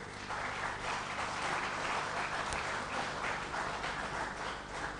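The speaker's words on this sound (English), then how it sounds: "A round of applause for our guests." A studio audience applauds its guests with a steady, moderately distant wash of clapping that holds evenly through the whole stretch.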